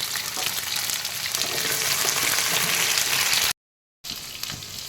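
Pumpkin pieces dropped into hot oil in a frying pan while cooking a Bengali chorchori with pui shak, taro and hilsa fish head, a loud steady sizzle with a brief cut of silence near the end.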